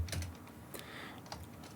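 Typing on a computer keyboard, a few quiet scattered key clicks over a low steady room hum with no talking.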